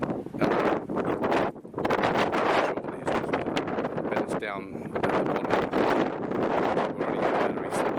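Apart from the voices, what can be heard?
strong wind on a mountaintop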